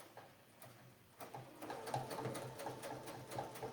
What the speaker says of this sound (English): I will simply stitch in the ditch down to that spot.